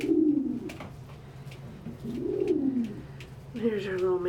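Several doves coo at a feeder, soft, low rolling calls repeating every couple of seconds, with faint clicks and rustles in between.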